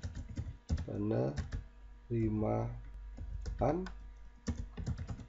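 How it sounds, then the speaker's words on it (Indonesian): Keys clatter on a computer keyboard as text is typed into CorelDRAW for a school brochure design, the taps running under a man's steady speech throughout. "saya ketikkan teksnya dengan menggunakan text tool"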